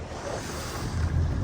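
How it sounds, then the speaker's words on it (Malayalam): Wind sweeps over a backwater lake before rain, a loud, close rushing roar buffeting the microphone from a slow-moving boat. "നല്ല മഴക്കാരും കാറ്റും ഉണ്ട്."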